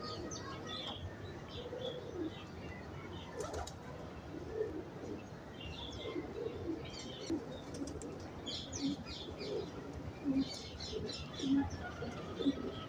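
Pigeons on a champion high-flyer loft rooftop in Lahore, with low soft coos repeating steadily through the scene, mixed with light chirps and occasional wing flutters, fairly close and moderately quiet.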